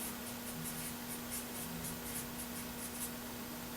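A marker scratches across paper in a steady series of short strokes, close and quiet against a constant background hum.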